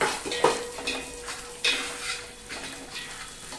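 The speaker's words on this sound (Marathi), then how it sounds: "हे बघा थोड्याशा तेलात सगळे ड्रायफ्रुट्स मस्त फ्राय करून घेऊया" Dry fruits fry in a little oil while being made into dinkache ladoo. A low sizzle sits beneath light clinks and scrapes of a spoon stirring against the pan, with occasional louder knocks.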